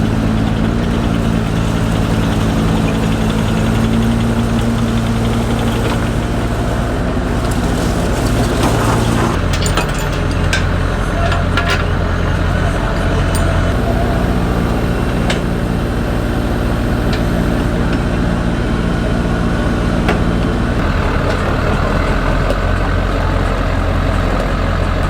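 A Mini X mini excavator's engine idles steadily and loudly for a long stretch, a continuous low diesel rumble with shifting mechanical clatter and no talk over it.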